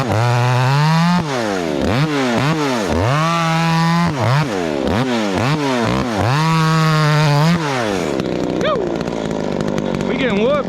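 A Husqvarna 372XP big bore chainsaw engine revs hard again and again while bucking firewood, loud and close, its pitch surging up and dropping back before settling into a quieter idle.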